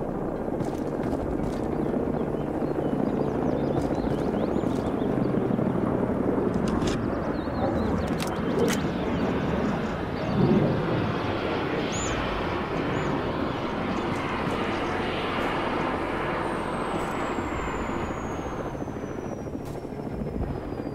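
An airplane engine in the military video game ArmA 3, during an attack on an airfield: a loud, steady broadband roar and drone lasting throughout, with faint higher whines on top and no talking.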